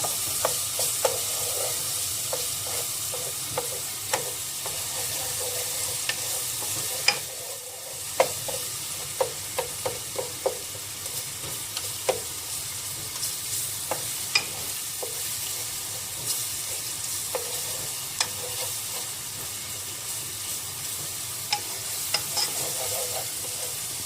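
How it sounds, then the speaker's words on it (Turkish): Tomato paste sizzles and fries steadily in a pan while a spoon stirs it, with frequent clinks and scrapes against the pan over a continuous soft hiss, close and clear. "Salçamızı da bir iki tur döndürelim."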